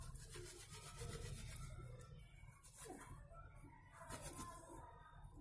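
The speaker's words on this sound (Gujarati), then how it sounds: "જે ભાગમાં ઓઇલ હતું ત્યાં ખાસ ઘસવાનું." Oil-stained cloth being rubbed by hand to work out the stain, a soft continuous scrubbing rasp with brief swells and pauses, close and fairly quiet, with no speech.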